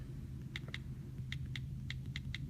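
Computer keyboard typing, a few sparse key clicks in small bunches over a steady low hum, fairly close and moderately loud.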